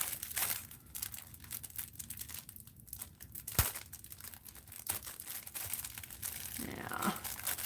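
A plastic packaging bag being cut open with scissors, bursts of crinkling and tearing plastic with a sharp snip near the middle, fairly close and moderately quiet, with no talking.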